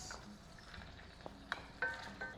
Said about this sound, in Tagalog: I'll add a little bit more oil. I'll cook my mirepoix.